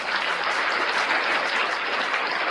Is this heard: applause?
yes